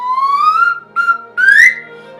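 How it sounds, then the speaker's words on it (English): A narrower-diameter Lamy owl dove bird whistle plays three close, hollow, rising whistled notes, the first long and sliding upward, the next two shorter, loud and clear with no voices. "here's a slightly less wide diameter owl dove whistle"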